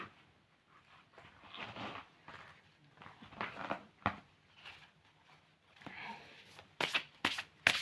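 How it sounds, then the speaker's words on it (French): A deck of tarot cards is shuffled by hand in a quiet room, with soft, papery riffles and flutters coming in uneven bursts and a few sharper snaps near the end. "Maintenant, on va mélanger ces cartes pour faire un petit tirage."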